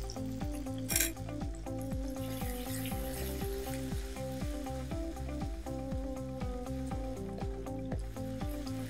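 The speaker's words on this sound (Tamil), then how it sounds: "இப்போ நெக்ஸ்ட் நம்ம இந்த இஞ்சி பூண்டு ஆட் பண்ணனும்" Ginger and garlic fry in a pan with a steady sizzle and occasional stirring clinks, heard under prominent rhythmic background music.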